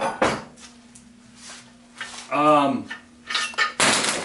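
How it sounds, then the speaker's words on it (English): A screen door creaks open with a brief rising spring squeal, then bangs shut with a sharp clack, surrounded by scattered light clatter and a faint background hum. "The screen door."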